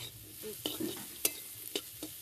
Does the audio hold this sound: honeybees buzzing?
no